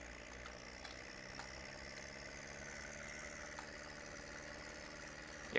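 A tractor engine idles at low revs in the game Spin Tires, giving a steady, even mid-low drone with no load and no talking.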